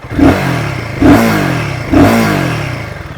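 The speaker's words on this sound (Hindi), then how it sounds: "पहले एक बार आप एग्जॉस्ट चेक कर लो।" Three loud revs of a 2024 Royal Enfield Guerrilla 450 motorcycle exhaust, each rising sharply then easing back to a throaty idle, close up and evenly spaced.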